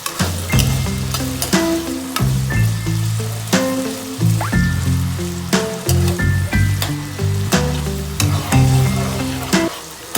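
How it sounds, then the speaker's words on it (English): Cubed potatoes frying in a pan for a street-style cheese poha, giving a continuous loud sizzle with recurring clatters and scrapes of stirring, close up with no talking. "So fry these potatoes for around 5 to 10 minutes."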